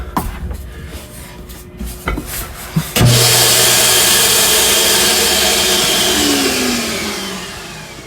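An RV's built-in central vacuum cleaner, on a 2022 Forest River XLR Hyper Lite 3212 toy hauler, switches on abruptly with a loud steady broadband roar after a few handling clunks, then keeps running close by and tapers slightly toward the end.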